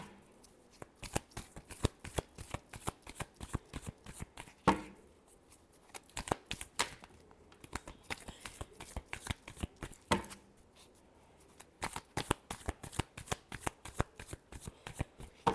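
Tarot cards shuffled close up in rapid bursts of crisp riffling flutters and snaps, pausing briefly between rounds, quiet and alone.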